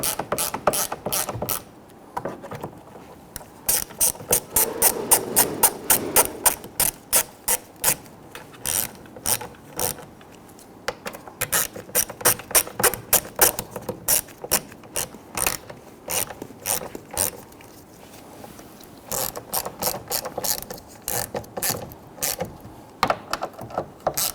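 A hand ratchet tightens the side mirror bolts on a 2011-2015 Kia Sorento, making loud, close, rapid clicking bursts in repeated strokes with short pauses between them, and no voices can be heard.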